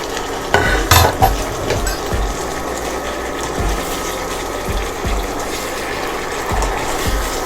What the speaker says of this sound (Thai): ผัดให้ผักใบคะน้าสุกก่อนนะคะ